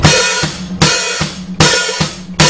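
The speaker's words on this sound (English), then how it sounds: "start opening and closing your hi-hat back and forth" A hi-hat opens and closes in a steady rhythm, washy open hits alternating with tight closed chicks, locked with low kick drum thumps.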